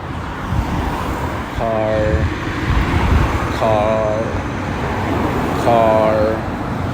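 Road traffic rumbles continuously on a city bridge, with vehicles swelling and fading as they pass nearby, and people's voices heard intermittently over the noise.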